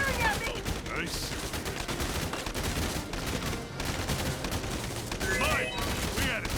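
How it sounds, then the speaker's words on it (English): Enemy gunfire in the video game Valkyria Chronicles 4, dense bursts of shots crackling continuously over battle noise, with a voice speaking faintly underneath. "Ah, they're firing at me!"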